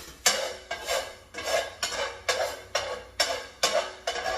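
A utensil stirs seasoning into string beans in a pot, scraping and clinking against the metal in a steady rhythm of about ten strokes, close and clear, with no talk.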